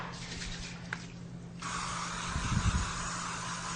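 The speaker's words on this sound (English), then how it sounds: "So let's spray our Foreman grill." Cooking spray hisses onto a Foreman grill close by: a brief faint spritz, then a louder, steady spray lasting a couple of seconds, with a low background hum.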